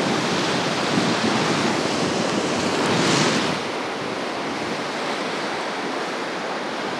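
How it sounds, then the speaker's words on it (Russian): Sea surf rolling onto the central beach at Anapa, a continuous loud wash of breaking waves with wind noise over the microphone, swelling briefly before easing to a steady roar. "Этот приятный, ласкающий уши звук прибоя"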